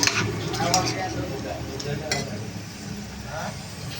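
A spoon scrapes and clinks against a pot while blind prawn tamarind curry is stirred, with light sizzling underneath and a person talking over the stirring.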